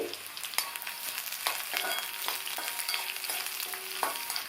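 Onion and curry leaves frying in a pan for pirandai thuvaiyal, a constant bright sizzle with a spatula stirring and knocking against the pan now and then, close and moderately loud.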